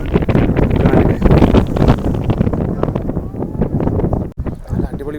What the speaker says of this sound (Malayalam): കാറ്റ് നല്ല കാറ്റാണ് വരുന്ന